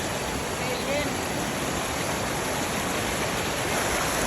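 Natsudan Falls roaring as a loud, unbroken wash of falling water, close by and filling the whole scene with steady broadband rush.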